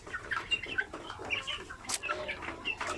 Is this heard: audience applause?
no